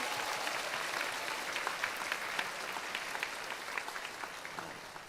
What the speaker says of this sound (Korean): 맞다면 박수 한번 드리겠습니다